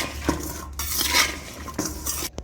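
Spoon clinking and scraping against a bowl while a masala bhindi mixture with lemon juice is stirred, with soft rhythmic metallic taps and a few louder knocks, no voices.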